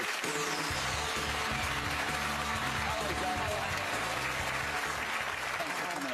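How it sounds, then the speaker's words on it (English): A TV studio audience on a daytime talk show breaks into sustained applause, a continuous wash of many hands clapping at moderate distance, with a low musical bed and voices underneath. "Give her a round of applause"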